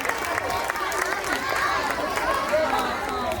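A school audience at a Shiv Jayanti celebration claps and cheers for the heroes, crowd noise and applause mixed with voices and chatter, moderately loud and continuous.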